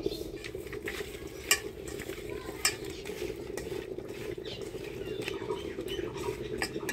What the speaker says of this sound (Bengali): এবার এই মাছটা আমি হলুদ লবণ আর অল্প সরষের তেল দিয়ে মাখা রেখে দেব